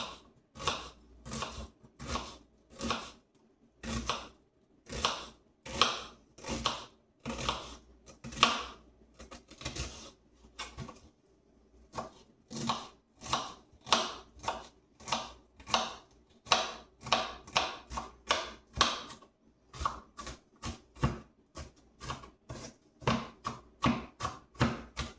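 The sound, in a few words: knife cutting food while making meatballs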